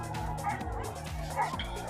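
Several hunting dogs bark in rapid, overlapping bursts while chasing a wild boar outdoors, the barks loud and close and repeating without pause.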